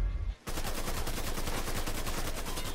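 Rapid, continuous gunfire in the video game Mafia 3, a dense, loud burst of evenly spaced shots following a brief lull, close and without talk.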